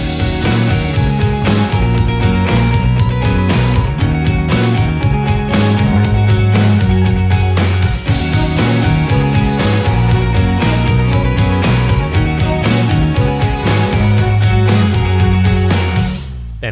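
Layered rhythm and harmony electric guitars playing together in a dense, loud full band mix with driving steady strumming and sustained chords throughout, no talking.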